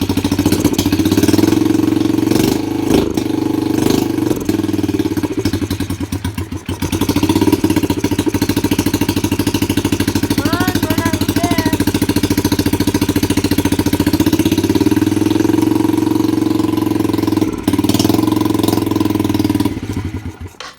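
A dirt bike engine idles steadily up close, a loud continuous rumble with slight wavering and brief dips as the choke keeps popping in.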